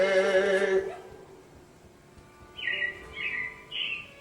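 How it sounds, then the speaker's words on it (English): Robin-like bird chirps sound in a theme park ride setting at Disney World after a sung passage fades; three short, bright, high chirps come in quick succession, fairly clear and close, with no talking. "it looks like the Robins are getting ready to celebrate Valentine's Day today"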